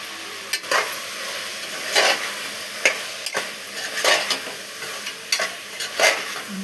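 A spatula stirs frying ingredients with coriander powder in a pan for brinjal curry, giving repeated rhythmic scraping strokes about once a second over a soft, steady sizzle.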